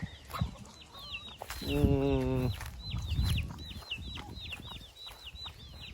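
Chickens cluck close by, with a rooster's drawn-out crow in the middle and birds chirping repeatedly in the background.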